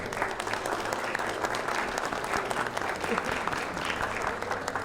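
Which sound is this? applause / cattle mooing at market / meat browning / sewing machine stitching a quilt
applause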